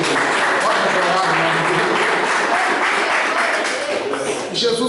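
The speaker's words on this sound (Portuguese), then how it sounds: "Pode aplaudir o nome dele." A church congregation applauds in a steady, dense wash of clapping that holds for several seconds, with voices mixed in underneath.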